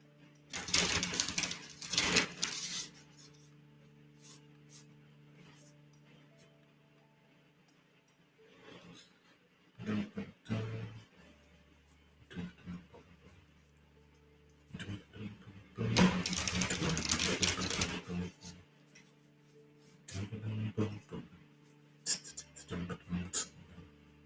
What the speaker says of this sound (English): we'll go ahead and shuffle a bit